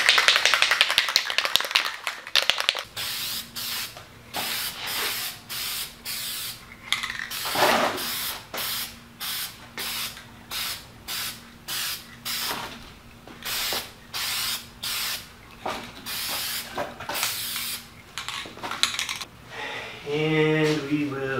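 Can of hammered-finish Rust-Oleum spray paint being sprayed in a long series of short hissing bursts with brief gaps between, loud and close, preceded by a rattling shake of the can.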